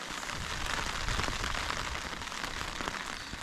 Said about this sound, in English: Damn you, rain, damn you.